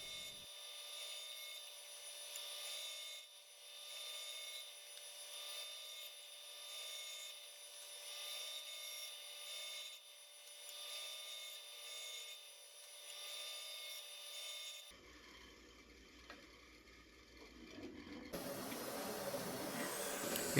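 Rosewood tote blanks being sawn, a steady mechanical whir with a rasping cutting edge running continuously, then shifting to rougher, noisier handling sounds near the end.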